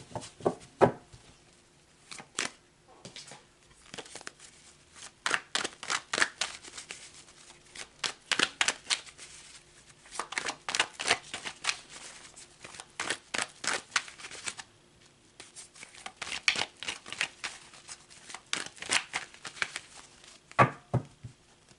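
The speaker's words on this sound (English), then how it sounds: "I'm actually going to take back all these cards." Tarot cards being gathered and shuffled by hand, a close, crisp run of rapid riffling and flicking bursts that come in clusters with short pauses, the card noise alone and quiet.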